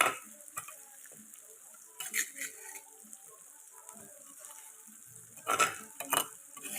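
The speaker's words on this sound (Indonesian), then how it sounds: "Kita tumis sampai wangi dan tanak ya si bumbunya" Ground spice paste and sauce being stir-fried in a pan. A soft sizzle runs underneath, with a few louder scrapes and clinks of the utensil against the pan at intervals. No one speaks.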